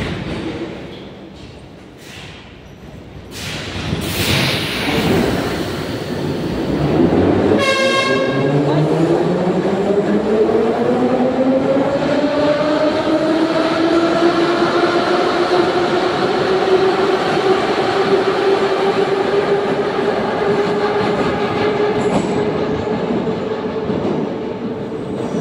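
A retro-styled metro train on the Moscow line rumbles along the rails, first with clanks and hisses, then a rising whine as it gathers speed, followed by a long steady roar of wheels and motors that stays loud and close.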